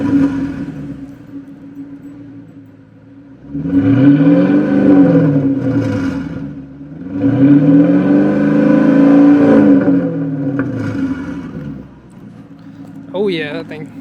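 A Dodge Magnum with a 5.7L Hemi V8 and stock exhaust idles up close, then roars through two strong, sustained revs that swell and fall back to a low idle.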